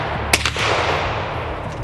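A pellet gun fires a single sharp, loud report using .22 nail gun blanks, followed by a brief echoing tail and a steady low background rumble with no talk.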